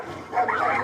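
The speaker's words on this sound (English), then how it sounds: "Go, Loop, dog, go!" A dog set loose to attack yelps and barks in a short, close burst, with a whimpering edge to the sound.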